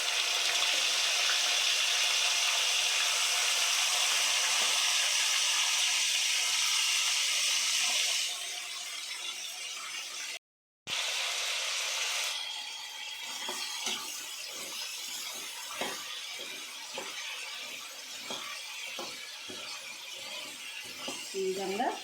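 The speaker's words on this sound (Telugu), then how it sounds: "ఇప్పుడు మనం ఉడికించి పెట్టుకున్న కందగడ్డను నూనెలో వేసి వేయించుకోవాలి" Boiled elephant yam pieces go into hot oil tempered with mustard seeds and curry leaves. A steady steamy hiss gives way after a short gap to crackling, spattering frying pops that continue near and moderately loud.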